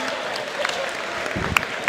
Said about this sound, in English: big round of applause for Sharif